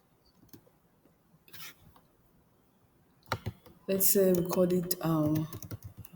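A brief, faint patter of keyboard typing, followed by a voice speaking clearly over it.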